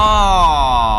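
A sustained electronic warning tone from the Roblox game Rainbow Friends, with a slowly falling pitch, sounds loudly over a low rumble, lasting about a second.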